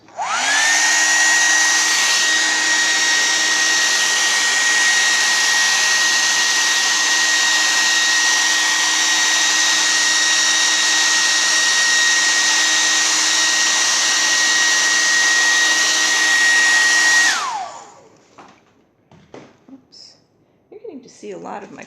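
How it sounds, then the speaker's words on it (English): A loud, steady hair dryer blows continuously with a constant whine, then switches off abruptly, leaving faint rustling and quiet movement afterward. "So here comes the hairdryer again."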